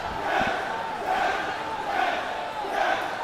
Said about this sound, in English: And Reintraud's mother, Laurel, hyping up the DRS crowd